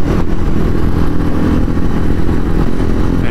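A 2023 TVS Ronin 225 motorcycle climbs an uphill road in East Java, its engine droning loud and steady up close with a rough, throbbing low-end and wind noise throughout.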